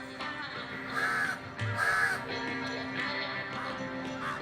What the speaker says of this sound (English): the black crows who hover ominously over the breakfast buffet on the veranda.